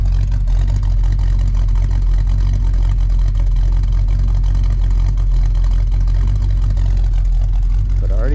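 1972 Buick Gran Sport Stage 1 engine with an aftermarket cam idling, a loud steady deep rumble held throughout, with talk over it.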